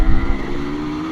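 Husqvarna motocross motorcycle racing on an MX/XC track, engine loud and close, a rough throttle blip at the start settling into a steady buzzing drone.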